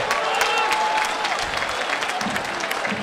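A crowd applauds at a football match between SV Eintracht Trier and TuS Koblenz just after the referee's whistle, with a steady, fairly loud clapping wash that lasts throughout.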